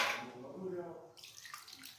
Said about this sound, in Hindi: ये जो कुंडी है इसमें थोड़ा सा पानी डाल के इसको थोड़ा साफ कर लेंगे